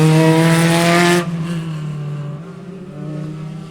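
Spec Racer Ford race cars at Sebring in an SCCA race, one car's engine droning loudly and close before it drops away, then more distant engine hum continues with a change of pitch.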